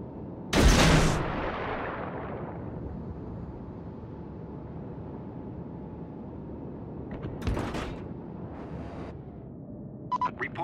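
Naval guns boom from a heavy cruiser in a World of Warships battle: a loud blast near the start with a long rumbling decay, then a second report around the middle, over steady engine and sea drone, with faint clicks at the end.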